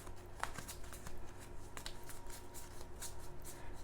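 Yokai Sketch game cards handled up close, soft papery flicks and slides with a few crisp snaps, faint and intermittent with no voices.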